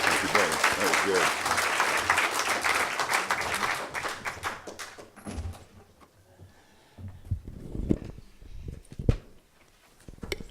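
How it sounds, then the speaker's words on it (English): Audience applause at a security conference keynote, loud and dense for about five seconds, then fading to scattered claps, shuffling and faint talking. "a round of applause for Dave Kennedy"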